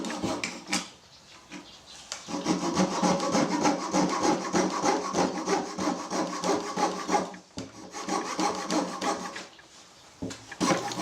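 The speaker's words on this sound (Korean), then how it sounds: "조인트 부분의 모양을 잘라보겠습니다" A hand saw cuts the wooden joint of a ukulele neck in close, loud rasping strokes, a steady back-and-forth rhythm broken by short pauses.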